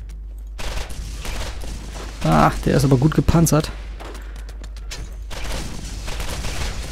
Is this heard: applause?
no